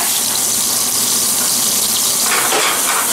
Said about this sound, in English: Give that little bit of a sizzle.